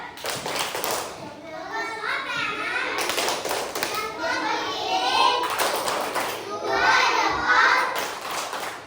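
Schoolchildren in a classroom performing the rhythmic 'tepuk hebat' clapping chant together, bursts of group claps mixed with loud children's chanting and voices, close and lively.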